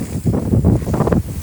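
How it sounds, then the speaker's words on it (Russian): Strong gusting wind buffets a house outdoors in the cold, a loud, continuous roar of wind noise surging and falling without pause. "Ветер очень сильный."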